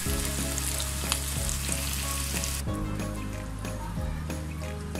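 Chicken pakoras frying in hot oil over medium heat, a loud continuous close-up sizzle with a few soft knocks, dropping slightly in intensity midway as pieces settle, no voices.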